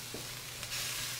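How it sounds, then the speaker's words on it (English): Strips of roasted bell pepper and vegetables stir-fry in a hot wok, giving a steady close sizzle with a brief scrape of constant stirring. "the secret to wok frying is always moving"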